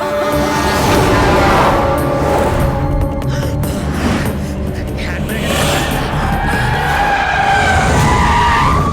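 A car with failed brakes skidding in a film scene, a loud, sustained tire squeal under a revving engine, with tense overlapping voices and dramatic score woven through.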